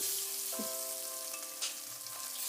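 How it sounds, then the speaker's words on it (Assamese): Fish pieces rubbed with salt and turmeric sizzle in hot oil in a wok, a steady bright crackle with a few louder pops and stirring scrapes, close and with no talking. "এতিয়া মই মাছখিনি ৰঙচুৱাকৈ ভাজি লওঁ"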